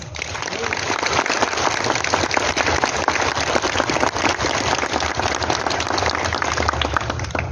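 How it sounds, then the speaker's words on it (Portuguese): A parish crowd at a São Domingos centenary novena and procession claps in a long, dense, rain-like patter of applause that stays loud and even throughout. "que recebam agora um afetuoso e forte salva de palmas"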